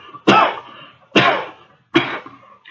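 Three heavy, harsh coughs, close and loud, spaced evenly about a second apart with brief quiet between them.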